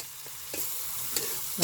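Spice paste for a spicy chingri-style small fish curry fries in oil as a spoon stirs it, giving a close sizzle with a few scraping strokes and a louder scrape at the end.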